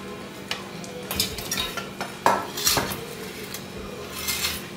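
Tender coconut being grated for kajjikayalu in a kitchen: a few irregular scraping and rasping strokes with light metallic clinks, close and moderately loud, with no talking.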